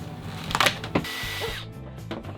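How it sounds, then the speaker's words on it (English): A power drill running in short bursts as it drives screws into T-nut hardware on a wall panel aboard a sailboat, with whirring and ratcheting close by and no speech. "let me grab the hardware, start putting the screws to it."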